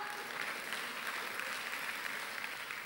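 A church congregation applauds during a sermon, a dense, even wash of many hands clapping heard at a moderate distance and fairly faint, with no talking over it.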